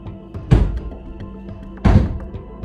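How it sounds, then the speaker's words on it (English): Two heavy thumps land about a second and a half apart on empty stairs, loud and hollow, like rushed footsteps over a low background hum. "the random thumps turn into what sounds like someone rushing up the empty stairs"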